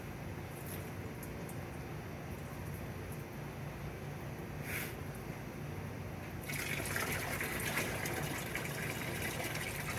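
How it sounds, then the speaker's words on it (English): Diesel fuel pouring from truck fuel filters into a 5-gallon bucket during service of a Peterbilt 379, a steady liquid gush that grows brighter and louder toward the end, with no talk. "Got a 5-gallon bucket here I'm dumping fuel filters into"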